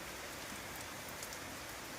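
Heavy rain falls steadily in Itkur, Dharashiv, a dense, continuous broadband hiss of drops on surfaces that stays loud and even throughout, with no voices.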